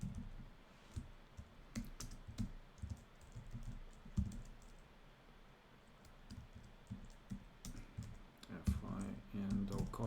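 Irregular bursts of computer keyboard typing and clicking during a Bash scripting session, quiet and close, with soft pauses between runs of keystrokes.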